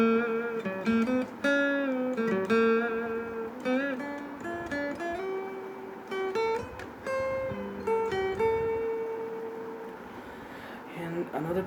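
A guitar plays melodic major pentatonic phrases, quick single-note runs and bends with sustained notes, moderately quiet and heard alone without speech.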